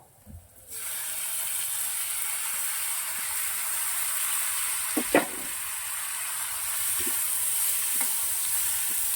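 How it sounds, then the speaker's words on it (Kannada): Four medium tomatoes and curry leaves frying in hot oil. A loud, steady sizzle erupts at once and keeps hissing, with a few brief stirring clinks partway through, heard up close. "ಇದನ್ನ ಕೂಡ ಫ್ರೈ ಮಾಡ್ಕೊಳ್ಳೋಣ ಎಣ್ಣೆಲಿ"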